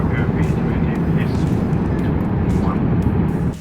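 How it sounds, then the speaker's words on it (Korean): Thai Airways A350 airliner landing at Bangkok Suvarnabhumi airport on the Incheon route: a loud, unbroken roar of engines and rushing air, with a few faint higher sounds on top. "방콕 수완나푼 공항에 착륙합니다"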